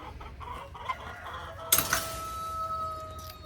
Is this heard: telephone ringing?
no